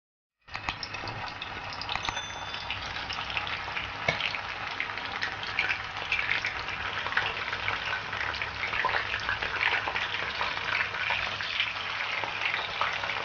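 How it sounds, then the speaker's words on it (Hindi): Fish frying in a pan of oil makes a dense, steady crackling sizzle that starts abruptly and carries on without a break, close and fairly loud. "अब हम फिश को फ्राई करेंगे।"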